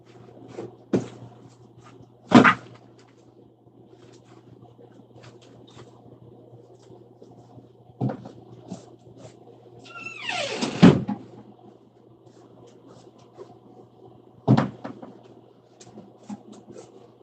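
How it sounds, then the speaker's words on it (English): A door is pushed shut indoors, with a few sharp knocks and thuds spread over a quiet room hum and one longer scraping clatter in the middle, no talking. "I had to close that door"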